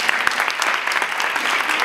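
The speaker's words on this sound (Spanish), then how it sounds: "Damos un aplauso al equipo 3." Audience applause for a team at a talk on inclusion, a brief burst of dense steady clapping from a seated crowd, loud and close, with no voices.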